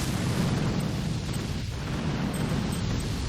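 A rocket explosion on a beach in a video game, a heavy rumbling blast whose roar sustains loudly for a few seconds with a dense low-end wash.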